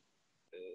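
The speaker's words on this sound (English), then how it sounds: "Sorry, my phone is ringing." A phone's electronic ring tone starts abruptly partway through, loud and steady with clear tonal pitches after a near-silent stretch of faint background hiss.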